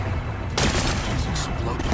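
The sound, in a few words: explosive blast on rocks in video game Horizon Forbidden West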